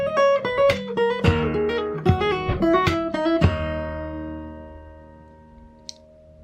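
A fingerstyle acoustic guitar plays a slow arrangement, plucking melody and bass notes with percussive hits. The phrases ring out and then decay into a long fading tail, with no talking.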